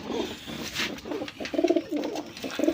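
Pigeons offered for sale cooing close by, a few soft throaty rolling coos repeating in short bursts, with no talk.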